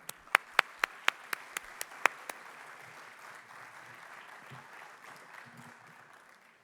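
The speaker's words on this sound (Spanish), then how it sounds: "Con este aplauso les damos la bienvenida." Audience applause welcoming former Ecuadorian president Guillermo Lasso at a summit, opening with about nine sharp, loud claps in quick succession before settling into a steady, moderate wash of crowd clapping.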